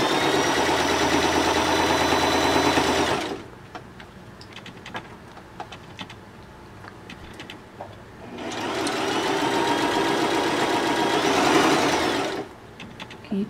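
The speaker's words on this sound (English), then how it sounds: "So now we're on the machine again." A sewing machine stitches a nine patch quilt block in two steady, whirring runs separated by a quiet pause with faint handling clicks, close up and with no talking.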